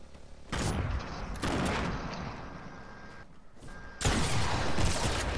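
Quad launcher rockets going off in Fortnite, three sudden loud blasts a second or more apart, each tailing into a rumbling roar, with no speech over them.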